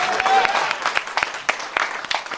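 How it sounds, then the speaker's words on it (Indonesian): A church congregation claps, uneven, moderately close individual claps at a steady pace, mixed with voices. "Berikan tepuk tangan bagi Tuhan"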